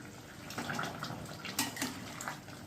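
A pot of dahi chicken, chicken cooked in yogurt and now watery from released juices, stirred with a spoon: soft wet sloshing and scraping with a few brief clinks, moderately quiet and close, with no talking.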